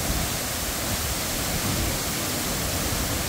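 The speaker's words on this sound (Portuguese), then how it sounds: "Aí vai ver ao lado aqui da ponte aqui essa cachoeira." A waterfall beside a road bridge on the MG-403 in northern Minas Gerais, a loud, steady, dense roar of falling water close by with no voices.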